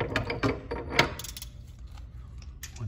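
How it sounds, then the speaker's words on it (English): A big wrench with a large socket and short extension turning a dome off a bank regulator, a quick run of close ratcheting clicks that fades into quieter mechanical handling. "So we'll get our big wrench and our big socket and a short extension, and we'll remove this dome."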